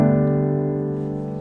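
A rootless gospel-style secondary dominant chord with an added 6th and 7th, struck once on piano. It rings full and close, then sustains and slowly fades.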